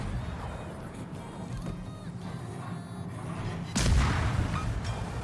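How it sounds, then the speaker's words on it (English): A torpedo strikes a ship in a naval video game, a deep booming impact bursting out after a stretch of low rumbling engine and ambient noise. "we hit him with a torpedo"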